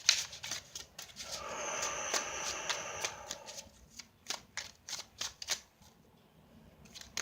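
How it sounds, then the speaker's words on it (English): Tarot cards are shuffled in a dense, crisp riffle, then pulled from the deck with a series of sharp, separate snaps and taps, close-up and fairly quiet, with no talking. "let me see if I can pull another card"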